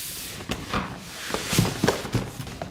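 A PlayStation 5 console box being opened, with cardboard rustling, scraping and soft thumps as flaps and packaging are handled up close.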